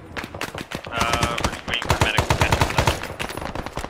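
Rapid machine-gun bursts and gunfire crackle from a bunker line in the Vietnam-era video game Arma, loud and continuous, with a voice faintly audible beneath the shots.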